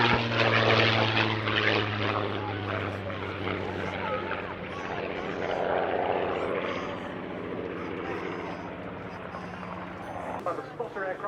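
A Douglas R4D and a Supermarine Spitfire XIV pass at an airshow, their propeller engines droning loud and steady with a low hum that slowly fades, while an announcer talks over them.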